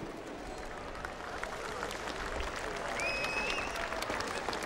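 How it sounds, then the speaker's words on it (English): A racecourse crowd at Royal Ascot applauds the winning filly after a Group 1 race. A steady, distant wash of clapping holds throughout and swells slightly toward the end. "justified applause as well."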